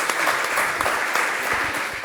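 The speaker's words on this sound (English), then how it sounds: "So a big round of applause, please, for the Haile Foundation and People's Liberty." An audience at a civic talk gives a dense, steady round of applause, close and continuous for about two seconds, with no talking over it.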